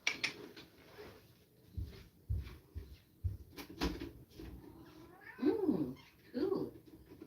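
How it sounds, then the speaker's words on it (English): A house cat cries and meows at close range, two drawn-out wavering calls near the end after scattered knocks and thumps, with a person talking quietly in the background. "my cat starts to cry when I do tarot"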